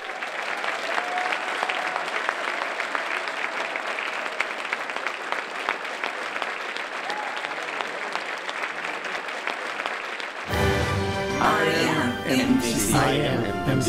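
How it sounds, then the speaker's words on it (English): A large audience at an alumni hall of fame ceremony applauds steadily for about ten seconds, dense and loud, before the clapping gives way to chanting voices and music. "Let's give them a big round of applause."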